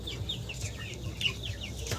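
Chickens cluck in a farm shed, with short repeated high calls overlapping at a low level against a steady background hum, no talking.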